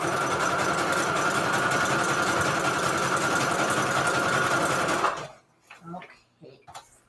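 A sewing machine stitches steadily for about five seconds with a loud, continuous, fast mechanical whir, then stops, leaving a few soft handling clicks and rustles.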